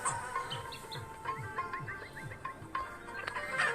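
Clucking chicken calls from a mobile game, a series of short rhythmic clucks repeating over soft synthetic background sounds and music-like tones, moderately loud and alone without talk.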